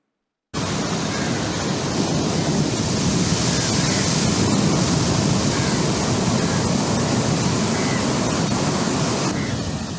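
Sea waves pound the eroding shore at Shanghumukham beach in Thiruvananthapuram, a steady, loud, dense roar of surf and wash that fills the whole stretch without pause.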